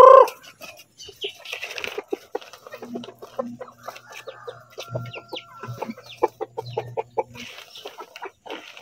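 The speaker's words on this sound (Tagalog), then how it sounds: "magpakain tayo ng manok" Backyard chickens clucking and squawking at feeding time, a scatter of close, busy clucks and short calls with a few louder cries, heard without talk.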